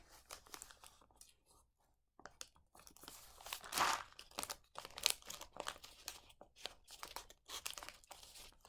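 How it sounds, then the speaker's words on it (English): Tape is handled and pressed onto a homemade fidget toy, giving close, crinkly crackles and short tearing rustles in irregular bursts with brief quiet gaps. "I'm just gonna add a little more tape on"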